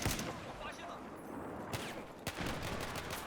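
Gunfire in a Call of Duty match, a dense burst of shots over a steady game-audio bed with a couple of sharper cracks standing out, fairly close; a voice talks over it.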